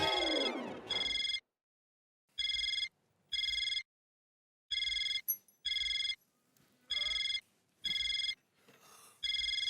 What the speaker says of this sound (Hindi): इस समय कौन फोन कर रहा है?